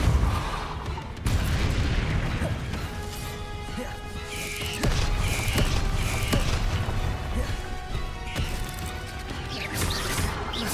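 Hogwarts Legacy combat spells such as Accio, Confringo and Depulso cast in quick succession, with crashing impacts and magical bursts over a continuous dense game mix, and a voice speaking in between.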